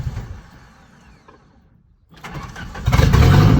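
A Dodge Dakota pickup undergoing a turbo and exhaust build, with its check engine light on, cranks and catches after a quiet low rumble, then roars up loud and steady.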